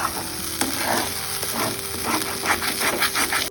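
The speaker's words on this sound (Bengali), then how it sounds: "এবারে দিয়ে দেবো মটরশুঁটি বাটা। এটাকে ভালো করে নাড়াতে হবে" Ground green pea paste frying in a pan while a spoon stirs it, with a continuous sizzle broken by repeated scraping strokes against the metal, close and fairly loud.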